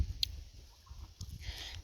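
Chickens and a large rooster let loose in a rural milpa field in Joyabaj, Quiché, giving faint scattered clucks and gobble-like calls over low outdoor rumble.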